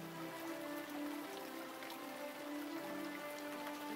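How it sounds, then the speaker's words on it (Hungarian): Rain falling steadily in the city-building video game Townsmen during winter, a soft continuous patter with faint tonal game music running underneath throughout. "esik az eső."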